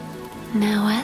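Soft, steady rainfall patters gently beneath a calm voice speaking over it.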